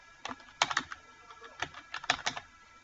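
Keys on a computer keyboard clack in quick irregular clusters, close and crisp, with short pauses between bursts of typing and no voices.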